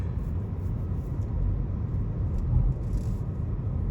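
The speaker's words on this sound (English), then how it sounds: "All right, going on a test drive." A 2020 Toyota Corolla Hybrid on a test drive after a transmission fluid service on its e-CVT, a steady low cabin rumble and road noise, fairly quiet and even throughout.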